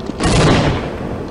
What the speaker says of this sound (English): And I heard an explosion somewhere.